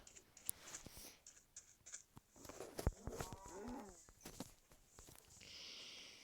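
A cow in the video game Minecraft moos with short, wavering low calls in the middle, among scattered clicks and soft footsteps, with faint talk in the background.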